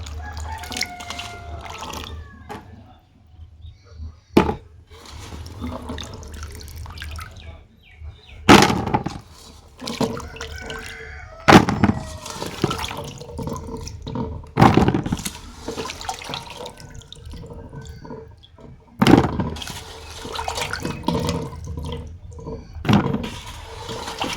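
Lemons being washed under running tap water for pickle, a steady splashing flow with intermittent louder bursts and clatter as the fruit is handled in the sink.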